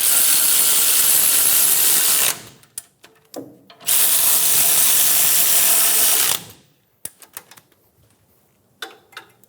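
A ratchet snugs down brake caliper bracket bolts on a Ford Expedition, coming as two long bursts of rapid, hard clicking, each running a few seconds, separated and followed by short scattered clicks and small metallic handling noises.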